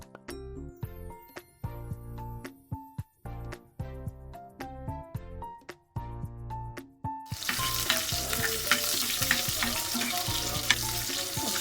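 Loitta fish hits hot mustard oil in a home kitchen pan; a loud, steady sizzle with bursts of crackle takes over partway through, after a stretch of tinkling background music, and continues strongly to the end.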